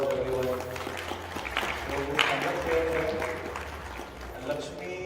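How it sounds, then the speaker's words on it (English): Wedding guests at an Indian ceremony applaud for Lakshmi, a moderate scattered clapping mixed with background murmur and tonal music-like hum, with talk running under it. "Please give Lakshmi a round of applause, everyone."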